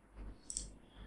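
A single computer mouse click sounds close and brief, with a soft low hum of the room around it.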